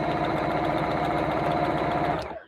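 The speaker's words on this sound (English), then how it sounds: "So we'll carry on sewing all around" A sewing machine runs steadily, stitching fabric for a skirt with a shirring elastic waist, a fast, even mechanical whirr and rhythmic needle chatter close by, stopping abruptly at the end.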